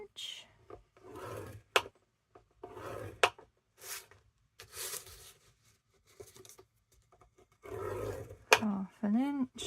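A scoring tool draws across paper for a junk journal in short rasping strokes at half-inch intervals, close and fairly faint, with gaps of quiet between strokes and a voice speaking briefly near the end.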